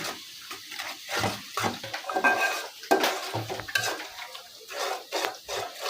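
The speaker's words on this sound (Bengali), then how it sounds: "মশলা ভালো করে কষান লাগে" Spices cooked down with cumin paste and ground cumin, turmeric and chili in a pot, with repeated scraping and clattering stir strokes of a utensil against the metal and a light sizzle underneath, close and fairly loud.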